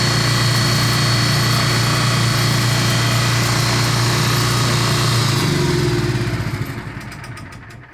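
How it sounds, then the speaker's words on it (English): A Quiet Pack 40 generator runs with a steady, loud engine drone, then winds down toward the end and fades as it shuts off. "The Quite Pack 40 makes more noise, uses less gas, and apparently it cranks up much better."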